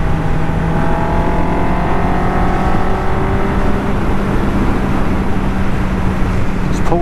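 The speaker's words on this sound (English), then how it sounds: "it makes that beautiful noise when you twist the throttle, and it just goes" MV Agusta 750 Brutale motorcycle engine with the throttle opened, a loud, steady roar with a rising tone, heard close and continuous for the whole stretch.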